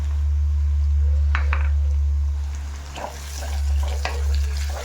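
Ginger-garlic paste fries with onion in a pan, making a soft hiss over a loud, steady low hum, with a few clinks and scrapes as it is stirred.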